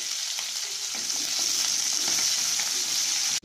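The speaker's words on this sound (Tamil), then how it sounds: "இப்போ நல்லா பொரிஞ்சதுக்கப்புறம் எடுத்து வச்சுருக்க சின்ன வெங்காயத்தை இதோட ஆட் பண்ணிக்கலாம்." Small shallots and tomato fry in hot oil for a fish curry, a dense, loud, close sizzle with faint stirring clicks, steady and unbroken, with no voices.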